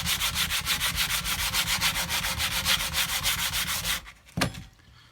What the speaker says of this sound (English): I gradually work myself up to finer and finer and finer grit sandpaper